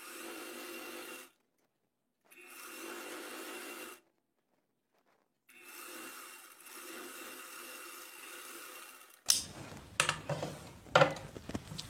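A sewing machine stitches the side seam of an umbrella-cut one-piece kurti in three steady whirring runs separated by pauses, then gives way to sharper clicks and handling noises.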